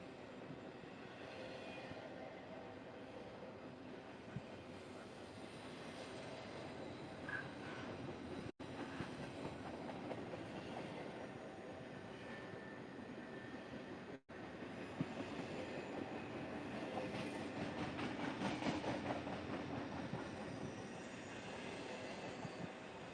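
An old-school locomotive train passing at Mukilteo, Washington at sunset: a continuous low rumble and rolling clatter, fairly distant, with no talk.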